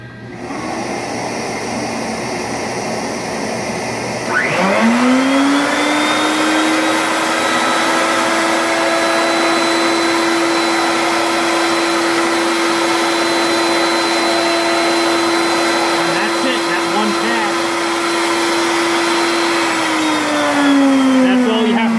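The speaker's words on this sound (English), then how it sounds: "In this whole time, we will have our vacuum on, which will collect not all, but a fair amount of the dust from this whole machine." A V-mill cutting composite shear test samples while a dust vacuum runs, a loud steady whine starting with a rising spin-up, holding constant for many seconds under a broad roar, then tapering slightly.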